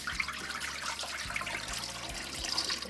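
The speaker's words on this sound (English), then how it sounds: "This cabbage is dirty, and I put it on the belt, so you gotta rinse that out." Dirty cabbage being rinsed for kimchi under a running kitchen tap, a steady close hiss of water splashing with no talk over it.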